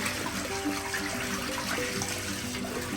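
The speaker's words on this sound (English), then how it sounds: "I want you to look at the drain while I pour this into the tub here." Rinse water is poured into a tub and gurgles down the drain while cleaning soap residue from engineered floors, a moderate, continuous splashing and draining sound, close by.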